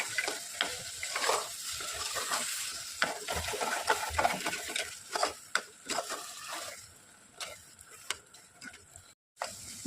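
Condensed milk being stirred into carrot halwa in a pan, with a steady run of scraping, tapping stirs and a soft sizzle underneath, close and fairly quiet, with no talk.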